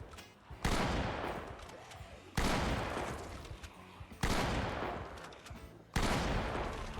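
Four evenly spaced shotgun blasts in Project Zomboid, each a sharp loud report trailing into a long rumbling decay before the next shot.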